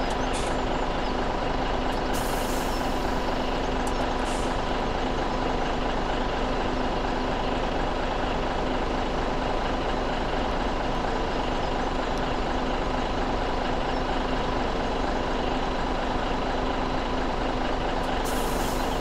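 A truck in the video game Farming Simulator 17 rumbles steadily and loudly throughout, with air brake hisses bursting out near the start and again at the end.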